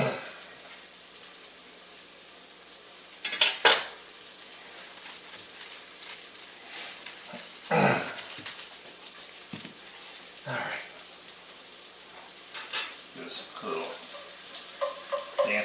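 Scrambled eggs with bacon frying in a pan are stirred, giving a soft continuous sizzle broken by occasional scraping and clinking of the utensil, close up with no talking.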